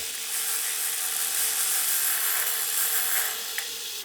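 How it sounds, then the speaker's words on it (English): Steady, continuous mechanical whirring of a drill running at constant speed to wind black thread onto a sewing bobbin, close by, with a faint click near the end as it stops. "I'm just going to wind it up using this drill."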